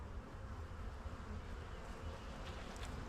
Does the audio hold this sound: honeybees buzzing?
yes